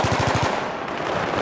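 Automatic weapons in the Battlefield 3 campaign fire a rapid, loud burst of about six shots, followed by a dense wash of battle noise.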